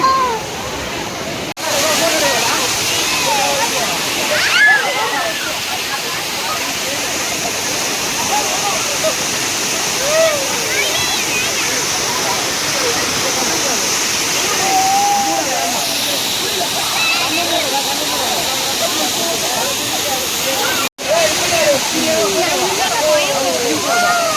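The Courtallam waterfall roars loudly and steadily throughout, a dense rushing wash of water, with people talking faintly beneath it.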